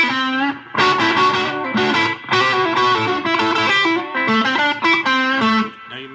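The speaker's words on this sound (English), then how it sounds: "So right now, I've got the reverb and the blues pedal." Overdriven electric guitar, a six-string cigar box guitar through a blues overdrive pedal, playing a bluesy phrase with strummed chords and bends, gritty and sustained, washed in reverb, loud and close.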